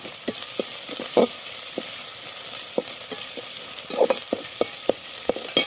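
Ginger garlic paste fries with onions in a pan for a soyabean kofta curry, giving a close, steady sizzle broken by sharp spatula scrapes and taps at an uneven pace.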